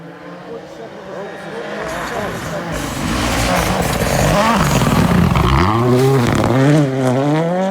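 A rally car at WRC Rally GB approaches and passes with a rising, increasingly loud engine roar and shifting pitch, while people talk over it nearby.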